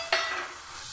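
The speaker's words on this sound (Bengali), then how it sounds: "টমেটো আর মশলা আমি খুব ভালো করে আর একটু 2 মিনিট কষে নেব" Tomatoes and spices being stir-fried in a pan for a rohu fish curry. The sizzle flares sharply when they hit the hot oil, then settles into a steady frying hiss with stirring and no talk.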